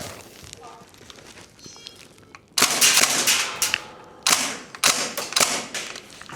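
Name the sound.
Northeast Airsoft Mini UZI gas blowback rifle firing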